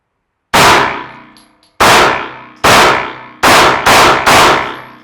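Six sharp gunshots ring out on a live-fire shooting range, loud and close, each with a quick decaying tail; a slower first pair gives way to a faster cluster at the end.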